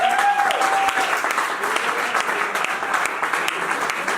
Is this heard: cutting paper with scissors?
no